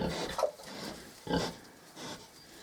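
A pig grunts and snorts a few times at close range, short rough bursts separated by brief pauses, with no talking.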